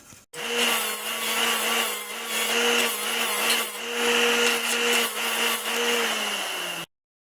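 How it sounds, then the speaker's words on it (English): Sandpaper scrubs buildup from the edges of an Evinrude 40 HP outboard lower unit, a loud, close, continuous rasping with rhythmic surges in intensity that stops abruptly near the end. "I'll get some sandpaper and clean those up"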